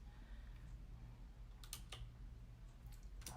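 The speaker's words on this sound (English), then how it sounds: "I've got a new keyboard over here" A few scattered keystrokes and clicks on a new computer keyboard over a low steady hum from a desktop computer, quiet and close.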